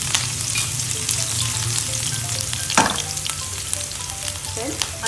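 Green chili dropped into two tablespoons of hot oil in a pan, a steady close sizzle and crackle with scattered pops and a brief louder burst as it is stirred, no talking.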